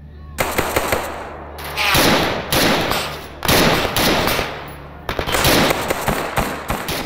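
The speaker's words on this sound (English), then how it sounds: "the second you start hearing the crackle of far-off gunfire" Bursts of rapid distant gunfire in the video game Stalker Anomaly crackle in repeated volleys with brief gaps between them, sharp and dense against a low rumbling background.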